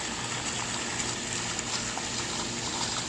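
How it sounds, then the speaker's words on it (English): A pump in a 4000-gallon saltwater pond pushes out a steady water current, a constant near rushing gush that holds even throughout with no talk. "most of my current comes from a pump in there. You can see it blowing out"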